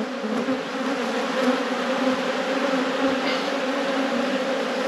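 Honeybees drone steadily around an open, neglected hive during a brood inspection with rotten frames, a dense continuous buzz that stays loud and close throughout, with no speech.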